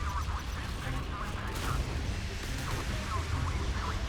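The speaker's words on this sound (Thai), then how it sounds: "ยิงปืนรัวๆ ครับ" Rapid naval gunfire from the warship Admiral Graf Spee in a battleship video game, a dense continuous stream of booming shots under steady rumble.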